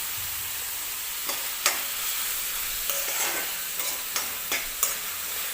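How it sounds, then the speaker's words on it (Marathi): Onion, garlic and ginger paste fries in hot oil for dal khichdi, a steady close sizzle broken by several light taps and scrapes of a stirring spoon. "तर हे मी कांदा वगैरे भाजून घेते"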